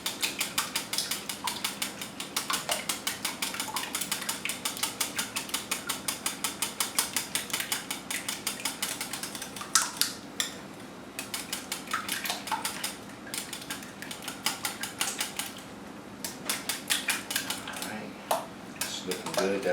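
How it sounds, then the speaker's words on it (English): A whisk beats heavy cream, eggs and minced garlic in a bowl with rapid, rhythmic metallic clicking, close and steady, briefly interrupted midway before resuming. "I'm just going to whisk them together and break up the egg yolks"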